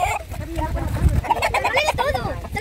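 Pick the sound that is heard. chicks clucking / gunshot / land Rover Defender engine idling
chicks clucking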